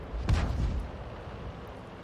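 A 105 leFH18B2 self-propelled artillery gun firing in World of Tanks, one deep booming shot with a short rumbling tail fading into quiet background.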